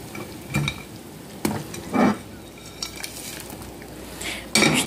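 Clattering and scraping as instant noodles are added to a pot of boiling water, with metal utensil clinks and a soft bubbling, sizzling wash beneath; no voices.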